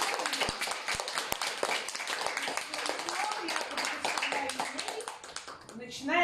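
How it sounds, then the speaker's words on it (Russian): Audience members clap at a presentation in Yakutsk, scattered hand claps with a few sharp close ones, mixed under loud ongoing speech from a presenter. "Давайте интернет поприветствуем, похлопаем."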